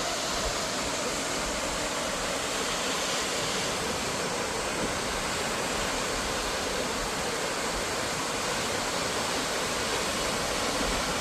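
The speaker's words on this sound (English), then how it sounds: "Salt Creek Falls, Oregon." Salt Creek Falls in Oregon pours down with a steady, loud, broadband roar of crashing water that stays constant throughout, with no voices over it.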